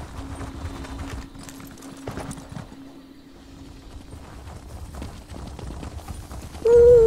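A horse ridden in The Elder Scrolls Online trots with a steady, rhythmic clip-clop of hooves over quiet ambient game sound, and a brief tonal game effect rises at the very end.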